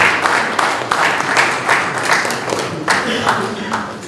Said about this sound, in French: Il faut l'applaudir aussi